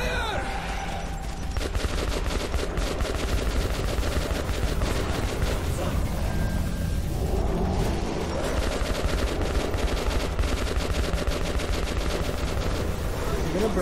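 Sustained rapid gunfire in the video game Metro 2033 Redux, with dense bursts of shots that continue for most of the stretch and ease briefly midway before resuming, with a voice speaking over it.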